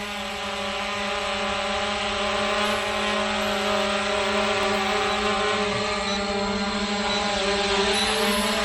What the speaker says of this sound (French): le drone arrive